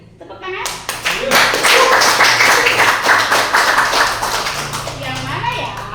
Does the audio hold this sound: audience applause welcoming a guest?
yes